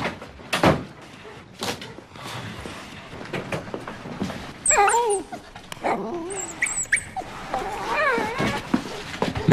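A puppy whimpering in short, high, wavering cries mixed with shuffling and rustling nearby, with brief speech in the background.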